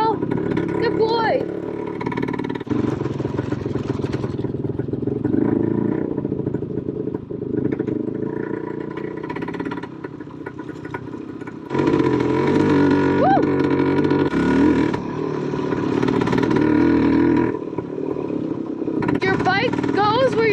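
Vintage motorcycle riding off-road through a forest, its engine droning and rising and falling in pitch, with bursts of revving and brief lulls as the ride goes on.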